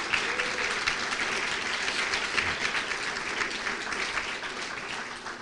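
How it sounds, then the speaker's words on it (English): An audience at an awards luncheon applauds nominees' family and friends, with steady, even clapping from a room full of people that holds throughout and eases slightly at the close. "Audience looks around and applauds as Mr. Newcomb points out."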